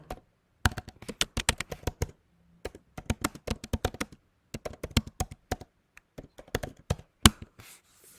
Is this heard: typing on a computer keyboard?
yes